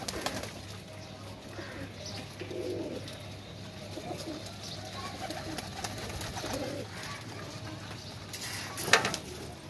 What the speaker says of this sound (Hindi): खाना शाना खा रहे हैं कबूतर